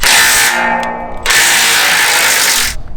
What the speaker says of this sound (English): Usually with a swivel head we can get in there with an impact to get that one off.